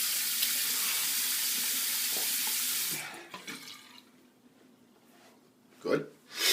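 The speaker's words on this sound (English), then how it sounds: "And now we're going to rinse with cold." A bathroom tap runs a steady stream of cold water for rinsing after a shave, loud and close for about three seconds before shutting off, leaving quiet handling noises and a couple of brief splashes.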